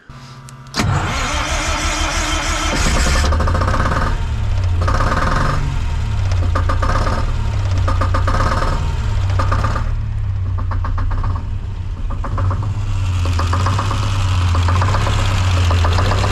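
Restored abandoned generator engine, just repaired after a fuel return line leak, starts and runs loud and close, settling into a steady, rhythmic throbbing beat.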